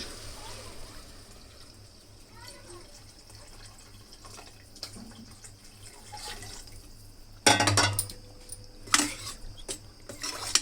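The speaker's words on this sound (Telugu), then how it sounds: "ఇప్పుడు దీనిలో వాటర్ యాడ్ చేద్దాం. కొలత ప్రకారం వాటర్ పెట్టుకున్నాను, ఈ వాటర్ పోసేస్తున్నా." Water pours into a pot of rice in a short, splashing gush after quieter kitchen sounds and faint clinks.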